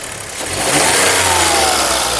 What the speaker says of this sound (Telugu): ఇంజన్ యొక్క నాయిస్ పర్ఫెక్ట్గా అయితే ఉందండి